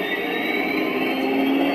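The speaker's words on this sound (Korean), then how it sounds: "이게 실제 가솔린 터빈 엔진 소리를 샘플링한 사운드 유닛이라고 해요" A Henglong M1A2 Abrams RC tank's sound unit plays a sampled gasoline turbine engine, a steady high-pitched whine with a constant whirring drone, close and continuous.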